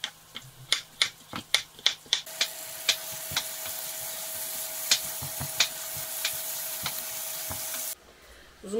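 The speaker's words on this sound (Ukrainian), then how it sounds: "Цибуля ще продовжує смажитись до рум'яності." Onion frying in a pan gives a steady, quiet sizzle under a run of sharp knife taps on a cutting board as carrots are sliced, with no talking.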